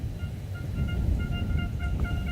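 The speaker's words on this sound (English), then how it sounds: "You can hear the air horns sounding from the spectators around the track." Spectators' air horns blare in repeated short blasts in the distance over a low, continuous crowd and engine rumble during a qualifying session at the Slovakia Ring racetrack.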